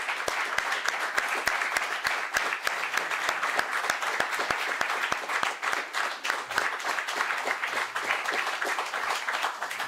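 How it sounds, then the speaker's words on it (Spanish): An audience at a Club Cocherito colloquium claps steadily for about ten seconds to send off Jesús Hijosa, mayor of Villaseca de la Sagra. The claps come as dense, even, sustained applause with no talking over it. "Ha sido un placer y despedirte con un aplauso, como te mereces"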